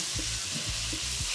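Onions, carrots, pimentos and minced ginger in oil are tossed in a hot pan, giving a loud, steady sizzle broken by quick rhythmic thumps.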